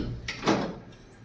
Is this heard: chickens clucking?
no